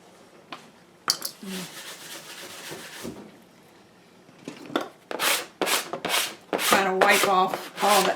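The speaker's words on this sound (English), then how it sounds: "Trying to wipe off all the extra stuff" Cloth or fingers rub and scrape in short, uneven bursts while excess material is wiped off a handmade fairy door wreath, the bursts growing denser and louder toward the end.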